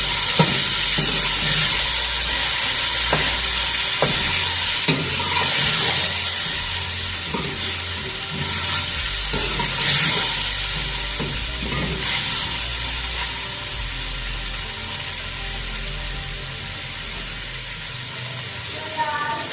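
Bitter gourd and chana dal are stirred with yogurt in a hot pan, a loud continuous sizzle with repeated scraping and clattering strokes of a spoon, close up, easing to a steadier fry toward the end.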